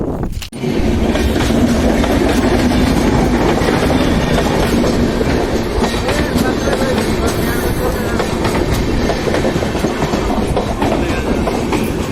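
A train rolls past close by on the railway in Odisha, with steady loud clickety-clack of wheels over rail joints and a continuous rumble throughout, with a faint squeal of wheels.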